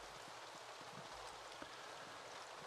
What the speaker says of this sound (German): Achso, ja, es regnet.